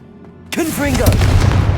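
A Confringo fire-blast spell detonating in Hogwarts Legacy: after a shouted incantation, a sudden loud explosive boom erupts and rolls on as a heavy rumbling crackle, close and dominant.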